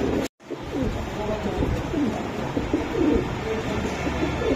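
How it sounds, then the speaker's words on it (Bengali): Red-marked lal patti pigeons coo at a busy pigeon market, a soft low burbling cooing that runs continuously and close, with people talking in the background. "লাল পাত্তি কবুতর খুব সুন্দর ভাই"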